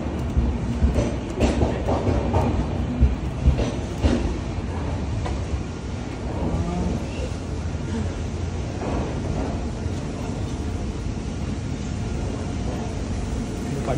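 A train sounds at Palakkad Junction railway station, heard from platform 4 as a loud, continuous rumble with rattling and clacking of the rail cars, along with the station's ambient noise.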